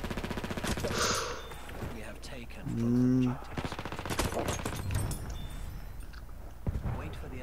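Automatico submachine gun firing in Battlefield 1 multiplayer, rapid crackling bursts mixed with distant battle noise, loud and busy throughout, with a voice talking over the action.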